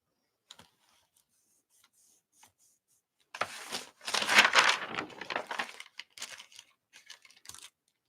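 Keys click on a computer keyboard: a few isolated taps at first, then a dense, irregular burst of fast typing for a couple of seconds, trailing off into scattered keystrokes. The typing is close and fairly quiet.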